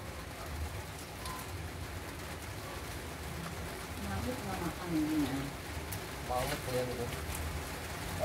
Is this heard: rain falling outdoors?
yes